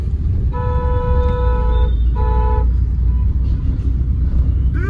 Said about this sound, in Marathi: ट्रॅफिक जाम आहे दिसाले.